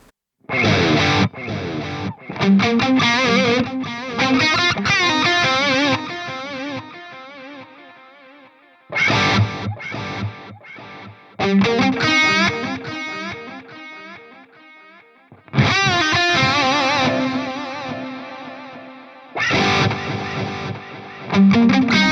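Electric guitar phrases through a BOSS DD-500 delay's center delay, played in bursts with pauses between, each line trailing into repeating echoes that fade out; loud and up close.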